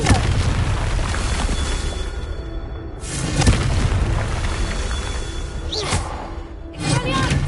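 Confringo fire spell explosions in the video game Hogwarts Legacy, a run of deep booming blasts with whooshing bursts, loud and close, repeating every few seconds.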